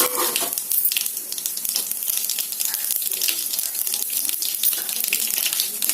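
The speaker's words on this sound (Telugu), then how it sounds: "ఆవాలు, జీలకర్ర, శనగపప్పు లైట్గా వేసుకోండి ఫ్రెండ్స్." Mustard seeds, cumin and chana dal sizzle in hot oil. The hiss is bright and crackly, with rapid small pops and a busy, close-up texture.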